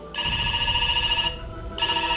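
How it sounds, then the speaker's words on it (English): An S.P.D. Morpher toy switched to phone mode gives off a loud electronic ringing tone in two bursts, a long ring followed by a short gap and a second ring, with no voices. "You close the handle, press 6, phone mode will turn on."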